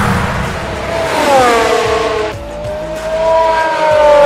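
Formula 1 car at the Algarve circuit in the 2020 Portuguese Grand Prix braking hard from about 318 km/h before corner 5, its engine pitch sweeping down through downshifts, then a fresh higher whine as it accelerates away, loud and close.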